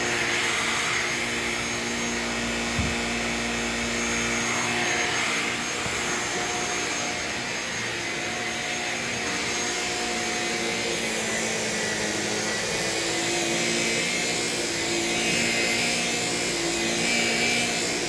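A Shark Rocket self-cleaning stick vacuum runs steadily indoors in a bedroom, a loud continuous motor whine and airflow roar with a brief thump near the start, no talking over it.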